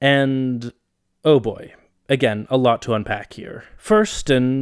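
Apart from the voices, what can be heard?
No everyday noises stand out.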